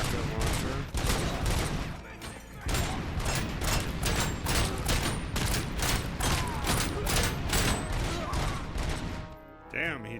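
Sustained, dense gunfire from the RoboCop Rogue City video game, with rapid overlapping shots and booms that fill the whole stretch at high volume, briefly dipping near the start and end.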